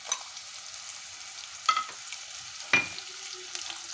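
Dry spices frying and stirred in the hot oil left from frying potatoes for masala aloo, giving a faint steady sizzle with a few soft scraping clinks from a spoon, no voices.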